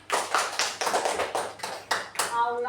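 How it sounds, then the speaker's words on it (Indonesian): Classroom of third-grade pupils clapping hands together in a burst of uneven, overlapping claps lasting a couple of seconds, with voices mixed in and a brief tonal voice near the end. "Oke, tepuk tangan buat Paki"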